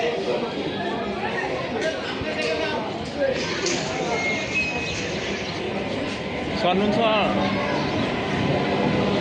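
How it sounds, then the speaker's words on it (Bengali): A train bound for Baharampur pulls into a station with a low rumble and rolling rail noise under constant crowd chatter, and people talk nearby throughout. "তো সেই ট্রেনটা হচ্ছে এখন চলে এসছে তো দেখুন যে লাইট জ্বলছে"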